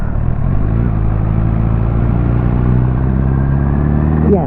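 A car with an unfixed engine misfire drives along a gravel road in second gear, giving a loud, constant close rumble with low clatter throughout.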